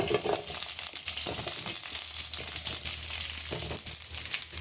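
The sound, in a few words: brinjal pieces frying in hot oil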